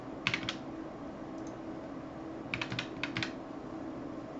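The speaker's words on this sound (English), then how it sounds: "Let's type that in." Fingers type a screen resolution on a computer keyboard: a quick cluster of key taps near the start, a single faint tap, then a longer run of clicks later, close and quiet with no speech.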